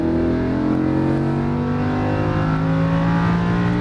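A Lamborghini Huracan engine drones loudly and steadily on a race track, its pitch climbing gradually under throttle with no pauses.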